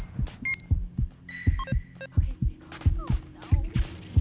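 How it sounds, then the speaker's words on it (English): A heartbeat warning in Dragon Ball: The Breakers thumps in steady low double beats, loud and regular throughout, with scattered game beeps and chimes over it. "It's just a heartbeat."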